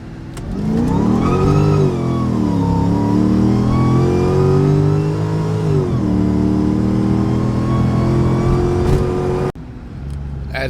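A Mercedes E55 with a 722.6 automatic transmission pulls hard on a road, engine note rising loud and close, dropping with each gear change before climbing again, then cutting off abruptly near the end.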